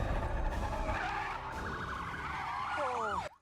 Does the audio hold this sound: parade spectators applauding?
no